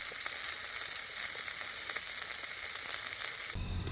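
Steak sears over an open campfire with a steady, close sizzling hiss that runs for several seconds before the sound shifts abruptly near the end.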